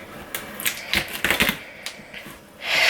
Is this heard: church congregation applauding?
no